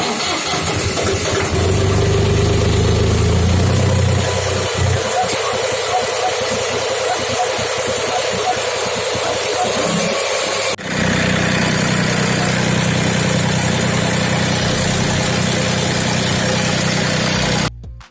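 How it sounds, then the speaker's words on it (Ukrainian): A YTO 244 tractor engine cranks and catches with the clutch pressed, then settles into a steady, loud diesel idle that runs on continuously nearby. "Вижимаю сцеплення і не відпускаючи її, завожу трактор."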